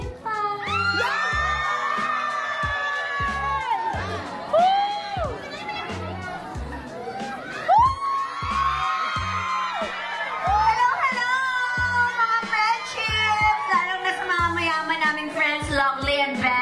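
At a film block screening, a crowd cheers, whoops and shouts continuously, with excited voices and children's squeals piling up over a steady murmur of chatter.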